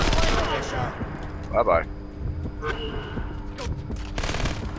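Gunfire from the video game Splinter Cell Conviction at an airfield, scattered shots and bursts of varying loudness spread across the clip, mixed with someone talking over the action.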